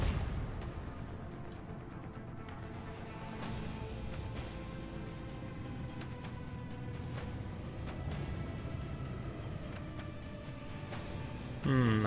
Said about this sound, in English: Unleash the storm of macro cannons.